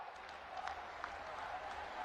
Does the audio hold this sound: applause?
yes